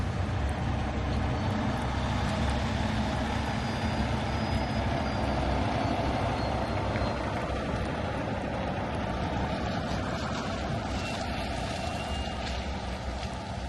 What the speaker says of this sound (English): Tow truck pulling in, y'all.